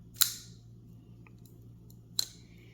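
A titanium folding flipper knife with an M390 blade snaps shut twice, two crisp, sharp metallic clicks about two seconds apart against a quiet background.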